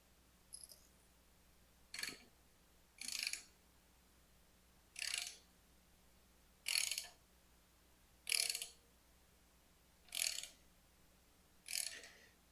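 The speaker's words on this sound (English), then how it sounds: "I will go ahead and turn the motor over until this gets to the base lobe" Rapid ratchet-like clicking comes in about eight short, evenly spaced bursts as an engine is turned over by hand in a car's engine bay, each burst crisp and close against a quiet background with a faint low hum.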